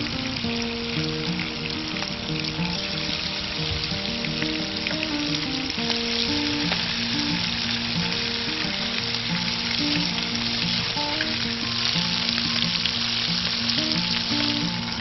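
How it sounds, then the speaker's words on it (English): Fish fillets fry in a warm pan with melted butter, a loud, constant close-up sizzle and crackle that runs evenly throughout with no voices. "Put our fillets into the warm pan and just lightly cook it."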